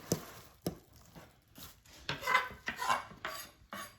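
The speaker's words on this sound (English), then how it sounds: "I'm just going to slice it down and dice it" A knife slices and dices a tomato on a board for guacamole, giving a series of sharp, close cuts in an irregular rhythm with a few scraping strokes, and no one talking.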